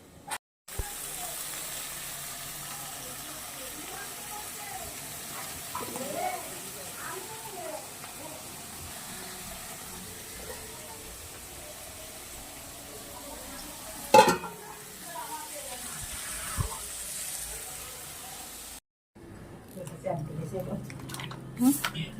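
Food is stirred and sizzles in a pan while mutton curry is cooked, a steady close frying hiss with spoon scrapes and clinks, and a voice talking over it.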